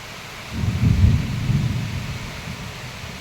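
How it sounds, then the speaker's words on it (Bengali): Heavy downpour with a low rumble of thunder swelling and fading, heard from indoors near an open window where rain is blowing in, a steady wash of rain under the deep roll. "তো মুষলধারে বৃষ্টি হচ্ছে, এবার জানলা দিয়েও বৃষ্টি আসছে।"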